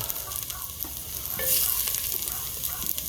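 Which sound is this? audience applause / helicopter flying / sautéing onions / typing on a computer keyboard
sautéing onions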